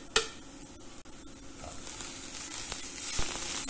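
Grated ginger and chopped garlic fry in a pan with cooked onion and carrots, a close, steady sizzle and hiss with a few sharp stirring clicks.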